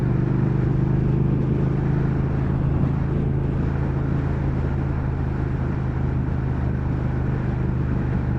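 A 2019 Triumph Speed Twin motorcycle engine rumbles steadily throughout a ride, a loud continuous low drone with a soft burble on the overrun and wind noise on top, no talking.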